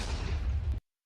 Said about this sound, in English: a sudden explosion took away my ladders